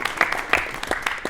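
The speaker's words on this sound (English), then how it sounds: "let's give Kyle a round of applause" An audience claps for a performer at a staged comedy reading, a short burst of scattered individual claps with distinct sharp hits, moderately close and without speech.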